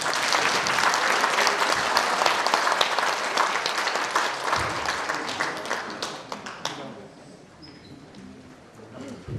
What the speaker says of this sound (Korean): 우리 김기현 대표님 박수 한번 부탁드리겠습니다